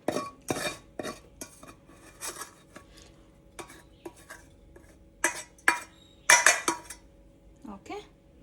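A spoon scrapes and clinks against a plate and pan as vegetable palya is served, in irregular sharp knocks and taps with quiet gaps between, close and clear.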